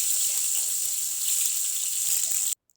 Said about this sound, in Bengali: তেলটা একটু গরম হলে তাতে দিয়ে দেব হাফ কাপ পেঁয়াজ কুচি